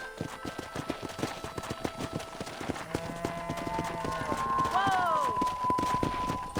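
Horse hooves gallop in a steady rapid clip-clop in Red Dead Redemption while a voice calls out over the beat, with game music swelling underneath.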